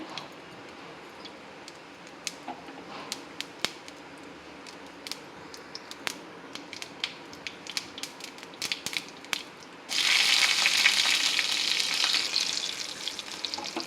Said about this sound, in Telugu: పోపు వేగింది ఇప్పుడు ఈ చింతపండు రసంలో పోపును వేసుకుందాం